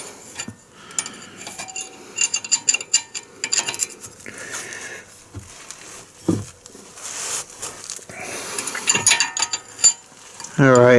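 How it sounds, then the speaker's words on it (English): Two wrenches used to break loose a cotter-pinned ball joint nut on a Chevy Equinox or GMC Terrain, giving irregular metallic clinks, rattles and scraping knocks up close, with brief talk between them. "I'm going to use the dual wrench method that we use to break it free, just to make sure that we have plenty of torque."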